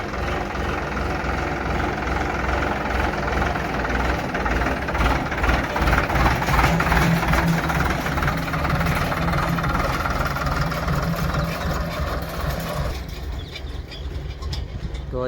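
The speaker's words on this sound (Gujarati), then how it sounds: "હવે અને જો અત્યારે આવી ગયું ટ્રેક્ટર" A farm tractor engine rumbles steadily at close range, a low, continuous diesel drone that holds for most of the time and then drops in level near the end, with faint voices around.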